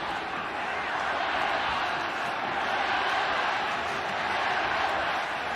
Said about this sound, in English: Listen to the roar from the crowd.